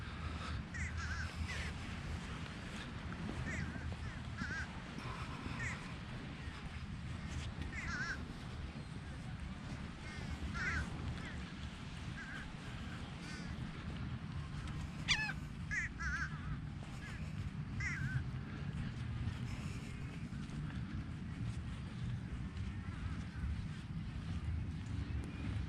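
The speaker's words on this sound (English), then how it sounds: "Crows." Crows caw in scattered short bursts across a wide sandy beach, some near and some farther off, over steady surf and wind, with people talking.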